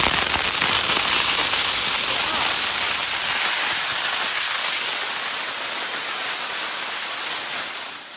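A Deepavali firecracker in Gangavathi, Karnataka, sprays a loud, continuous hissing crackle like static that roars evenly, then slowly fades near the end.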